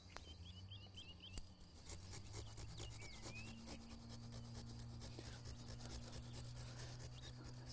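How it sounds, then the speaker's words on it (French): A steady rasping hand saw stroke rubs through hard buddleia wood, cutting back stubs in a garden, continuous and close, with a low hum underneath and faint birdsong in the background. "il vaut mieux s'aider plutôt avec une scie qu'un sécateur ébrancheur"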